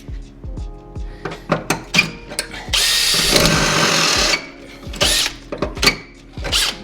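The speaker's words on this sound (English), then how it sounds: "we're gonna drill bigger" A power drill whirs steadily for about a second and a half, bracketed by clanks and handling knocks of tools and metal before and after.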